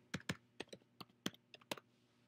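Quick bursts of typing on a computer keyboard, close and clear, about ten sharp key clicks in uneven clusters with a quiet room behind them.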